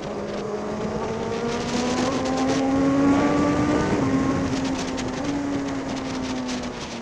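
A motorcycle engine, likely one of a group including a Suzuki GSX-R1000R, Ducati Streetfighter V4 and Yamaha MT-09, drones steadily with a sustained, slightly rising and falling pitch, fairly close and continuous throughout with no talking.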